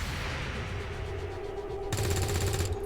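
Overwatch gunshots crackle in XCOM 2 as a dense, continuous burst of loud rapid fire that intensifies sharply in the final second.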